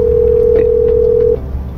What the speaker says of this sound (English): So we even tried calling her